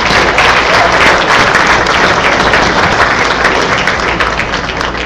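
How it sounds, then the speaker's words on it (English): Sustained, dense applause fills a naturalization ceremony hall as a crowd claps steadily and loudly throughout, with no pauses and only faint murmuring beneath. "Of course, it's okay to applaud for your country of origin."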